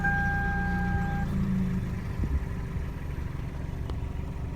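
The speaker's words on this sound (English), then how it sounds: "let's hop back in the car and start it up, listen to it from the inside" A 2000 Toyota Celica GT engine settles into a steady low idle after a short electronic chime fades, heard from inside the car, rumbling evenly throughout with no one speaking.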